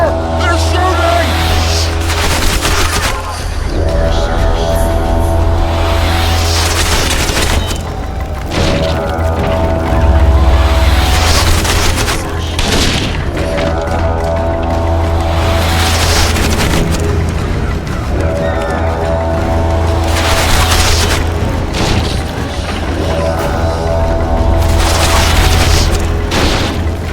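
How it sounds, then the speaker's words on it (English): Heavy booms and sharp cracks of gunfire sound in The Witcher 2 on PC, recurring every few seconds over a loud, dense battle din with a sustained low rumble. "Take cover! They're shooting!"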